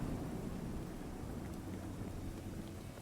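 Rain and a low rumble of thunder in the video game The Division 2, a quiet, steady patter with a soft, sustained rumble underneath and no voices.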